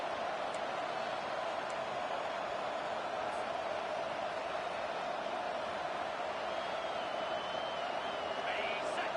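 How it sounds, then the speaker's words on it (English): Stadium crowd noise in a college football video game featuring the Florida State Seminoles, a steady broad roar of spectators holding at a moderate level throughout with no clear breaks. "This crowd bringing the energy and noise early."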